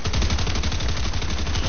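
Rapid automatic gunfire in a video game rattles continuously in a dense, loud burst, with a muffled, band-limited quality.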